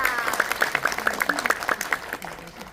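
An audience at a seminar gives a short burst of applause, a small group's quick, distinct claps tapering off within a few seconds.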